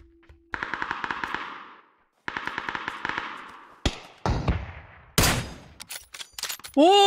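Gunfire in the video game PUBG: two rapid automatic bursts of close, loud shots separated by a short pause, followed by a few heavier single blasts and scattered game sounds.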